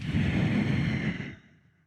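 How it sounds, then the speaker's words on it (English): A long, breathy exhale during a standing yoga pose in a hatha class, one steady airy breath that fades out after about a second and a half. "and exhaling to press away."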